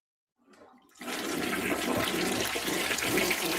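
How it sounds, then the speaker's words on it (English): A toilet flushes: after a brief quiet start and a small gurgle, a loud rushing gush of water comes in abruptly and pours steadily to the end. "One flush for the Dems."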